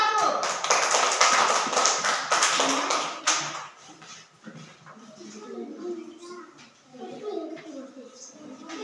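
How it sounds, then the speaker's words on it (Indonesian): Group applause in a classroom for the first discussion group, dense broadband clapping for about three seconds before fading into children's chatter and voices. "Silakan kita tepuk tangan untuk kelompok 1."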